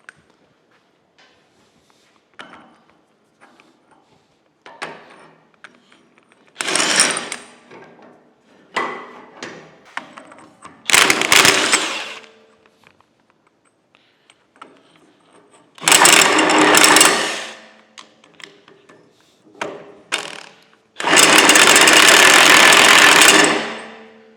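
Impact wrench removing gear studs during the restoration of a large cane mill, heard in several loud bursts of rattling hammering separated by pauses. Quieter clanks and handling noises fall between the bursts, close by.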